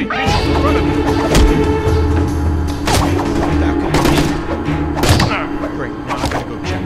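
Loud, rapid bursts of gunfire and heavy thuds from the video game Mark of the Ninja crash over a constant noisy backdrop, with a voice speaking underneath.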